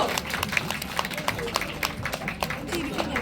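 Guests at a haldi ceremony clap together in a steady burst of applause, with voices and crowd murmur mixed in underneath.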